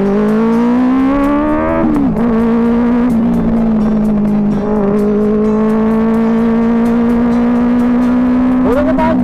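A Benelli 600i sportbike engine is held at a loud, steady rev close by, with the pitch dipping and climbing again as the throttle is worked.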